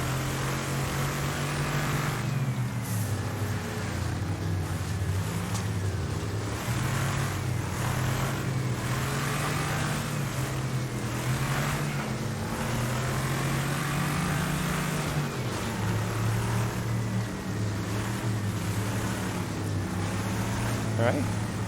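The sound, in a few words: car engine driving on dirt road in video game Wreckfest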